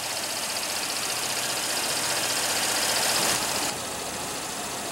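A 2015 Cadillac SRX with a 3.6 L direct-injection V6 idling, a steady even hum with a faint knocking texture that drops slightly in level near the end, heard alone.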